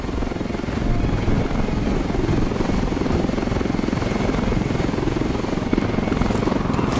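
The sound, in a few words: helicopter in a video game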